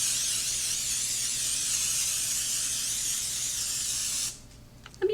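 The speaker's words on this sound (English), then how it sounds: "I'm going to spray each muffin tin with some non-stick cooking spray." A continuous pressurized hiss of non-stick cooking spray onto a muffin tin lasts about four seconds, then stops, followed by a few light clinks.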